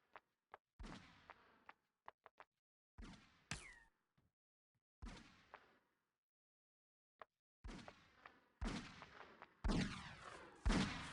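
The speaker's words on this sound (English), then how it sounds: "Bounty Hunter hard at work there with his scatter pistol." Scatter pistol shots crack out in the Star Wars Galaxies game, sharp separate bursts spread irregularly and then coming faster and louder toward the end, with quiet gaps between.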